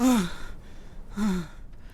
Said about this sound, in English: Briar gasps, awake.